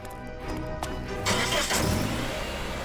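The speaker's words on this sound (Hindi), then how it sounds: "गाड़ी की आवाज।" A car engine starts up nearby after a quiet moment, then runs with a rough, steady roar.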